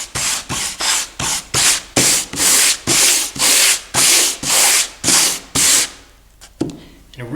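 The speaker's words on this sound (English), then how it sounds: "Just light pressure on the sanding block here, sanding through" Rhythmic strokes of sandpaper rubbing over wood, about a dozen even back-and-forth passes, close and loud, then a brief pause and a few softer scrapes.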